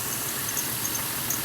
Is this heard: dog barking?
no